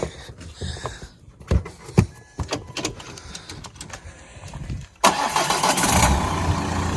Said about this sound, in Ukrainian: Щось тяжко завівся, така дуже вібранув він якось.